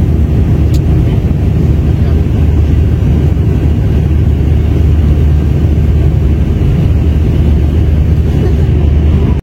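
Inside a passenger airplane taking off on a flight to Munich, a loud, steady roar of engines and rushing air fills the cabin without a break for the whole stretch.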